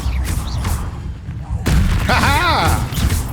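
A fiery Incendio spell erupts in a Hogwarts Legacy duel: a sudden loud burst and whoosh followed by crackling, over a busy game soundscape with voices.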